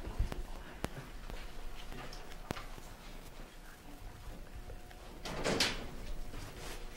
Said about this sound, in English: can I please get my pencil out of the drawer?